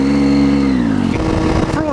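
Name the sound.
truck driving past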